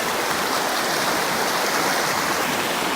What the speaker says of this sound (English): you see those lush white rapids moving through those large rocks